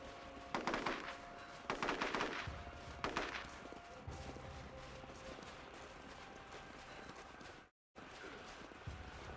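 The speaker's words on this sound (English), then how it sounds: "that's why we're hearing some gunfire." Bursts of rapid gunfire in a Tomb Raider video game rattle out in three quick volleys, followed by quieter background rumble and a brief dropout.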